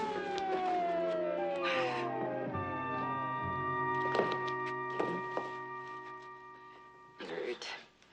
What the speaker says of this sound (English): And there's the ambulance.